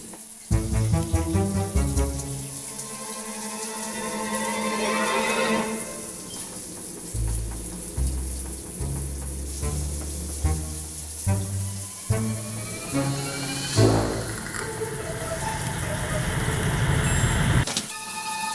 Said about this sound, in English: It sounds like... the shower.